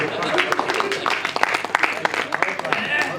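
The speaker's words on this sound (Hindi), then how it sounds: "अपने लिए ताली बजाएं" An audience at an evening Hindi poetry gathering claps in a brief burst of scattered applause while a host keeps talking over it.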